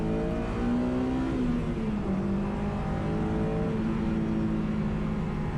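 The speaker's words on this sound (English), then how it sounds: "The last thing you want to do is turn on the car and take it for a test drive." A Honda S2000 engine runs steadily on a test drive after a spark plug change, a continuous close drone that rises and falls slightly in pitch with throttle. No voices.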